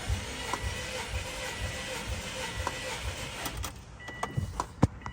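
Starter cranking a 2003 Subaru WRX engine during a compression test on cylinder 4, a steady low chugging run of several cranks in a garage, with a few sharp clicks and clanks near the end.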